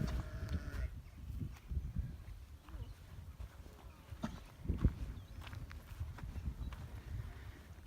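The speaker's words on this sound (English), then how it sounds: "Lovely horses here" Rare-breed horses on a seaside farm: soft, irregular hoof thuds and shuffling close by over low outdoor rumble, quiet and without talk.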